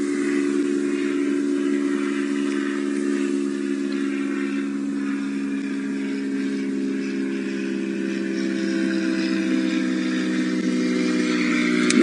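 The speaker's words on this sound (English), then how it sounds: "That is the sound of an aeroplane coming over" An aeroplane passes overhead during an afternoon safari drive in the African bush, a steady, loud engine drone with a tonal hum that holds evenly for about twelve seconds.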